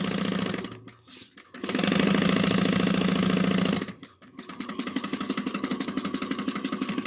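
A close sewing machine stitches a trick-or-treating bag seam, with a short burst, a longer steady run, brief pauses for backstitching, then a quicker pulsing run of needle strokes.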